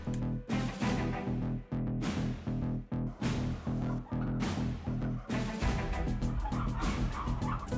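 Crowded turkeys packed into a shed on a large turkey farm, many birds with pecked, scabbed or missing tail feathers, gobbling loudly and continuously in a dense, overlapping chorus, with no talk.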